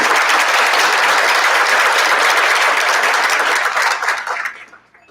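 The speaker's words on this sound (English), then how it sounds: "So if we could give everyone in this room a round of applause" A roomful of people at an awards ceremony clap together in loud, dense applause that holds steady, then quickly tapers off and dies away near the end.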